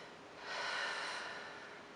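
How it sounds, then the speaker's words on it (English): A single slow, deep breath drawn in through the nose, soft and close, swelling in the middle and then trailing off, alone and quiet. "when we take a breath"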